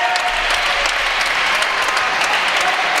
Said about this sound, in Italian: E ora esce Cordola, applaudita la sua prestazione.